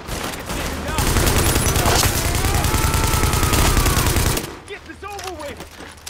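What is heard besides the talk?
gunfire in the video game The Division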